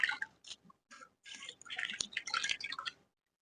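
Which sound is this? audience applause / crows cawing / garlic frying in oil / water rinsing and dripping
water rinsing and dripping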